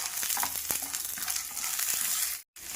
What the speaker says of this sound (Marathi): 1 चमचाभर उडदाची डाळ आणि हे सर्व जिन्नस छान भाजून घ्यायचे।